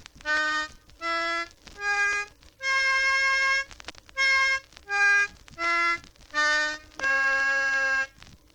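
A harmonica plays a sequence of nine separate notes in octaves, each a rich chord-like tone held briefly, with one longer sustained note near the end.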